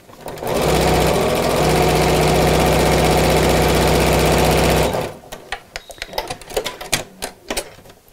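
A sewing machine stitches through thick fabric in a steady, loud, rapid mechanical chatter for about four seconds, then stops, leaving scattered clicks and handling noises of the fabric being moved.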